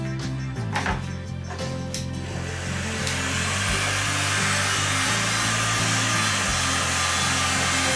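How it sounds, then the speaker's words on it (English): A heat gun with a worn, dodgy element blows a steady, loud hiss of hot air while drying acrylic paint on a timber burl, with a few brief knocks and clicks at the start, no one talking. "I do need to replace the heat gun at some stage."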